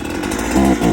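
A Husqvarna chainsaw, a clone model, runs steadily at close range, its engine buzz rising in pitch and loudness partway through as the throttle opens, with no talking over it.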